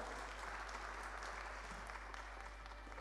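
Audience applause for the speakers at a panel on start-up financing mechanisms, a dense, even patter of many hands sustained throughout at moderate loudness over a steady low hum.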